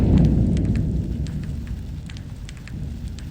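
Heavy rain pouring steadily under a deep, rolling rumble of thunder that swells loud at the start and fades, with sharp drop splashes on top.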